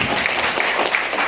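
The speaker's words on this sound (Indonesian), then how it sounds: "Tepuk tangan dong Pak." An audience at a school literacy and numeracy workshop gives a short burst of steady applause, a dense wash of many hands clapping together.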